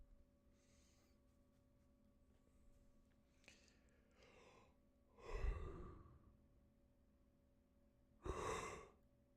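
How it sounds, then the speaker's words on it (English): A long, drawn-out yawn spreads over several seconds as soft breathy exhales, building to a louder, rough gust and ending in a final breathy burst. It sounds close and fairly quiet, with a steady electrical hum underneath. "that was the world's longest yawn"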